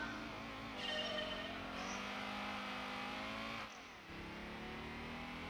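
Fiat Coupe engine in Gran Turismo 2 revving steadily and loud throughout, its tone climbing through gears with a brief dip and shift near the end, alone without talk.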